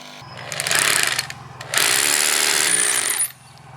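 A jigsaw cuts a hole through 2x lumber while framing a garage door header, giving two bursts of loud, harsh buzzing, the second longer and steadier, with a short dip between them and no talking.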